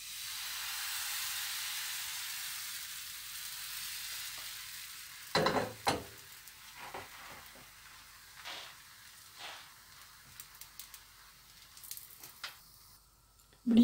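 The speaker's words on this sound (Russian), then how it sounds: "Нагрела сковородку, смазала ее немножко растительным маслом и буду выпекать блиночки." Pancake batter frying in a hot pan greased with a little vegetable oil gives a steady close sizzle and hiss, broken by a few soft scrapes and clinks of a utensil, with no talking.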